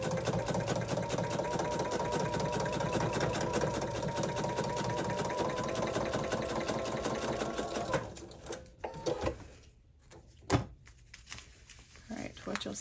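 A sewing machine stitches a fabric appliqué, a fast steady mechanical whir for several seconds that then stops, followed by quieter clicks and knocks, with a person talking over it.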